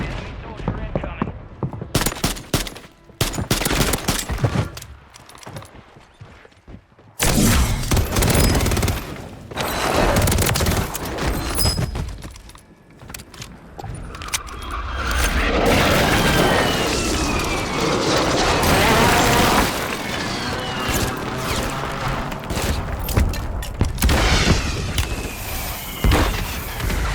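Warzone 3 firefight: dense bursts of gunfire and heavy airstrike explosions, loud and continuous with sharp cracks and rumbling booms, while a player talks over the action.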